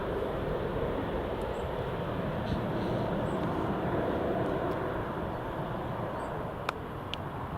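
A Loganair aircraft rolls down the runway for takeoff at Newcastle International Airport, a steady, broad distant engine roar that holds level throughout with no talk.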